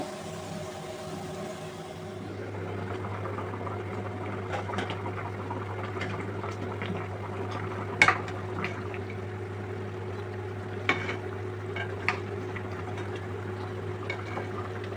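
Beef nihari gravy simmering in a pot near the end of cooking, a steady low bubbling hum with occasional small clinks and pops, fairly quiet and without talk.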